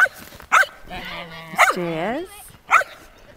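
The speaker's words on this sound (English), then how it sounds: "The dogs are enjoying this." Dogs bark in short separate bursts outdoors on an icy day, about four barks spaced apart, with a person speaking in between.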